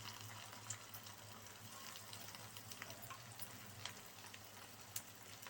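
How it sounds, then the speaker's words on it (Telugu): Bread pieces frying in oil in a pan, giving a steady, soft sizzle and crackle with small scattered pops, close and fairly quiet. "ఆయిల్ వేసుకుని మనం వాటిని ఒకటిగా వేయించుకోవాలి"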